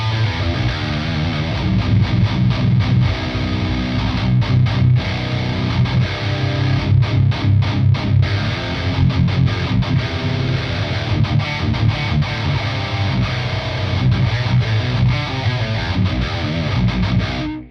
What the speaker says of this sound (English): Let's start with some distortion